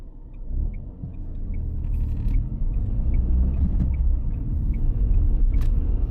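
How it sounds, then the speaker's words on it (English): A car speeding toward the listener along a road during a driving lesson: a steady low engine and tyre rumble that swells slightly and holds loud, with faint short chirps above it. "Now that car was coming quite quickly there"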